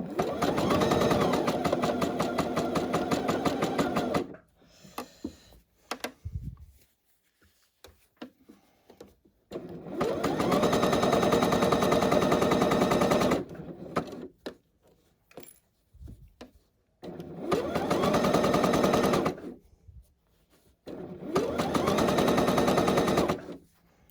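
A sewing machine stitches the pocket of jogger pants, running in four long, loud bursts of rapid, steady needle chatter separated by quiet pauses with small handling clicks and fabric movement.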